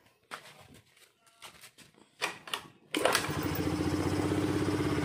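Honda Beat FI scooter with ignition and weak fuel pump problems: a few scattered mechanical clicks and thumps come first, then the engine catches and runs with a steady, close putter.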